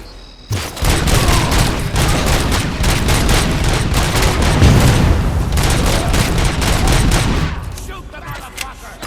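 Sustained rapid gunfire in the RoboCop: Rogue City video game, a loud, dense fusillade of overlapping shots lasting several seconds before tapering off.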